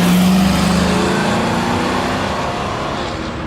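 Crown Victoria police patrol car with a 4.6 liter V8 running on a skid pad, a loud sustained engine roar close by that slowly eases off over a few seconds, with no speech.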